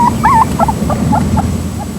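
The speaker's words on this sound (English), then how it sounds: "Cute and cuddly, the Greyhound plays like any other puppy." A greyhound puppy at play gives a string of short, high whimpers and yips, about eight small cries spread evenly over two seconds, close by and moderately loud above a steady low rumble of background noise.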